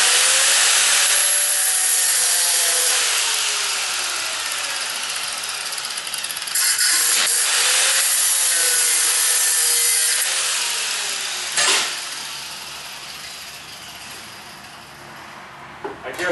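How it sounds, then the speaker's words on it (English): An angle grinder fitted with a cut-off wheel cuts while a flue pipe rain cap is being made. It gives a loud, harsh, close whine whose pitch rises and falls, with short dips and a pause partway through. "I guess that's an angle grinder with a cut-off wheel in it"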